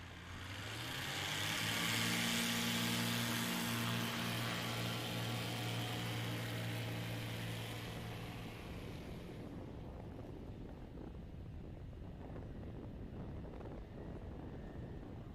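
A Kit Fox light aircraft's engine at a STOL practice on a runway, a loud droning hum with steady harmonics that swells and then fades as the plane passes and moves away, leaving wind and faint ambient noise.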